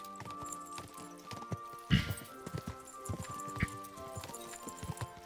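Hooves clip-clop steadily from a horse being ridden in the medieval game Kingdom Come: Deliverance 2, close and moderately loud with a brief whinny, and no talking.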